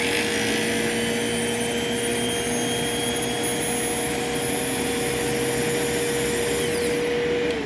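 Bissell 89Q9 vacuum cleaner running steadily with its brush roll engaged, a loud, close, unbroken whine and roar with a high motor tone held throughout, no voices over it.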